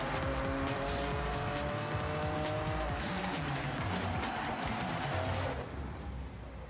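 Ferrari race car in the Forza Horizon racing game, a loud continuous engine roar with shifting pitch and tire squeal, fading slightly near the end with no talk.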